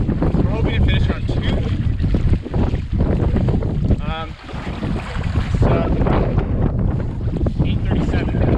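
Heavy headwind across an Algonquin Park lake on a canoe trip, roaring and buffeting hard and steadily over the whole stretch, with gusts and faint water movement underneath.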